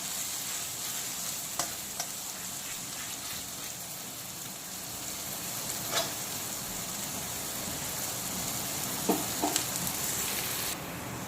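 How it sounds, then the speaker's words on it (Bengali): Chopped ginger, garlic and green chili sizzle and fry in hot oil, a steady soft crackle with occasional clinks of a utensil stirring the pan. "এখন আদা, রসুন আর কাঁচা লঙ্কা কুচি আবারও একটু ভাজা ভাজা হয়ে গেলে বাকি মশলাগুলো আমি দিয়ে দেব।"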